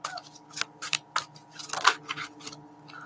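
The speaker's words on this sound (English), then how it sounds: "I'm just going to shuffle these oracle cards" Oracle cards being shuffled, a series of quick crisp riffling and flicking bursts in an irregular rhythm, close and fairly quiet, with a faint steady hum beneath.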